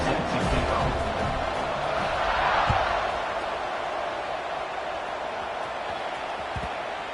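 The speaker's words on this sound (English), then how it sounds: "this crowd now ready to get behind them" Football stadium crowd at a college game roars steadily just before kickoff after an extra point, a broad continuous wash of cheering and noise with a few thumps, heard alone.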